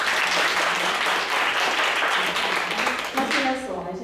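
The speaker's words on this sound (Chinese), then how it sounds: "我们来跟他拍手一下吧" A church congregation applauds during a Sunday Mandarin service for a man recovering from serious illness, steady close clapping filling the whole span with voices mixed in underneath.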